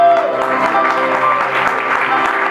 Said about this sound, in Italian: Un applauso a Carlo